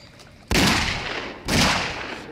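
Two loud, sharp gunfire bursts from a video game, each a sudden broadband blast with a long rumbling decay, about a second apart, with faint talk at the edges.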